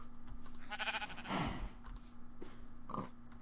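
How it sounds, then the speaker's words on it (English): Minecraft sheep bleat a few times in short wavering calls over a low background hum, with other farm animal grunts mixed in, fairly faint and without talk. "The thing about sheep is that they always eat the grass."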